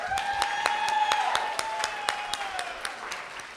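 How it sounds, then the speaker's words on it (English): Audience at a storytelling slam clapping for Tina, a dense, steady round of applause with sharp individual claps standing out, fairly loud and sustained throughout. "how about a round of applause for Tina"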